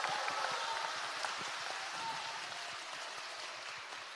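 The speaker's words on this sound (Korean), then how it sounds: "여러분 열렬한 박수로 맞이해주시기 바랍니다." Applause from a gathered audience at a Korean talk show event greets a city mayor, a soft, dense patter of many hands heard from a distance, fairly faint and easing slightly toward the end.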